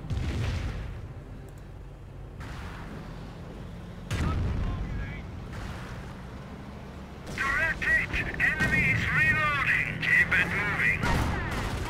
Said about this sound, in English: going to call some firestorm right here